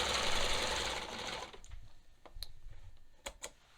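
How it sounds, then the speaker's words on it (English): A serger overlock machine stitches fabric with a dense, loud mechanical whir that stops partway through. A few sharp clicks and ticks follow from handling. "Just want to kind of serge off."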